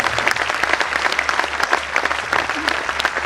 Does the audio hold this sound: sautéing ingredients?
no